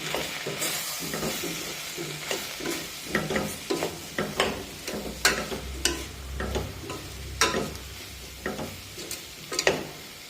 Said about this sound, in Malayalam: ഇതെല്ലാം ചേർത്ത് നന്നായി എണ്ണ ഇളക്കി കൊടുക്കാം